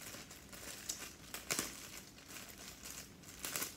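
Crinkly plastic wrapping is pulled and crumpled off an Annoying Orange memory foam toy, with a few sharper tearing rustles standing out in an irregular burst close up.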